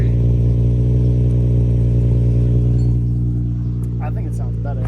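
A Nissan G35 drift car's VQ35DE V6 runs through a new Tomei exhaust, giving a loud, steady, droning idle that holds for several seconds before easing off slightly, with faint talk and clatter near the end.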